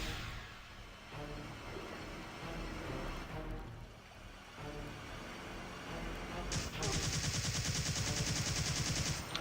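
Repeated gunfire against zombies in the PS1 game Resident Evil 3: Nemesis, bursts of shots over game music and ambience, turning into rapid continuous firing near the end.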